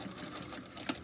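A sewing machine back stitches a fabric bowl cozy, a quiet, brief, steady mechanical whir of rapid needle strokes close by, with a small tick near the end.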